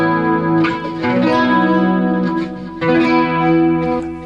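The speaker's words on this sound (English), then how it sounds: "I am using chorus." Electric guitar chords with a shimmering, swirling chorus effect from a BOSS eBand JS-10, loud and sustained, strummed in two phrases with a short gap between.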